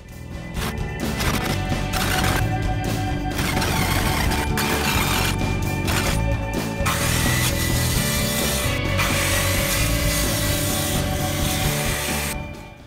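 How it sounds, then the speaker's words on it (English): Shelves of 1/8 inch hardboard being cut: a loud, continuous rasping, scraping cut at close range, with a few brief pauses and no talk. "So here I'm cutting out the shelves that will go into the dados that I cut earlier"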